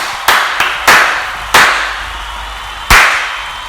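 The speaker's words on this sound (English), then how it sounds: "Let's give a round of applause to our crew." A few sharp, loud claps ring out one after another with pauses between them, brief and close, as a small group applauds a crew.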